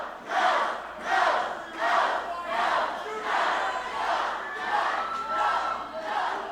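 Wrestling arena crowd chanting and cheering in rhythmic surges for Windy City AC, a loud, dense wall of voices rising and falling in repeated waves.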